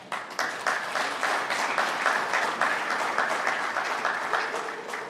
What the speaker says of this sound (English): And I want us to applaud her.